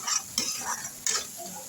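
Onions sautéed with cumin in a pan for Tamil-style raw banana puttu, giving soft scraping stir strokes and a light sizzle in a few bursts, close up, with no talk.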